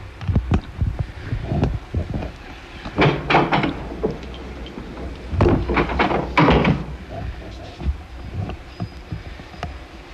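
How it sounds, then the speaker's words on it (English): A door sound effect plays on a Chicago FM radio broadcast: a string of loud thunks and rattling knocks in clusters, with quieter gaps between them and no talking. "And another door, Joe."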